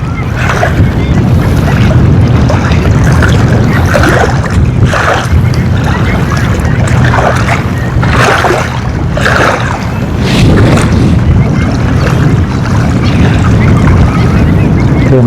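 Wind blows across a boat on the Pa Sak dam reservoir during lift-net fishing: a loud, constant rushing roar with gusts buffeting the microphone, and a faint voice occasionally underneath.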